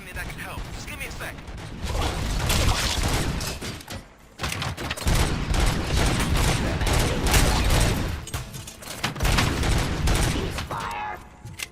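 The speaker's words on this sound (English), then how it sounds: "Gunshots? What's going on?" Gunfire in the RoboCop: Rogue City game comes as dense, loud bursts of rapid shots mixed with mechanical clatter. It runs almost continuously, with short breaks, and voices can be heard under the noise.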